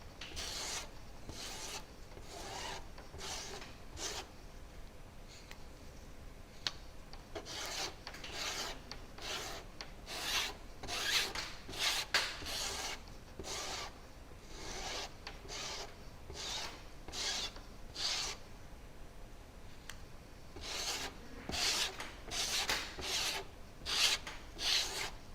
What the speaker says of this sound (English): I'm going to pull off as much of this as I can and scrape it right back into my jar here.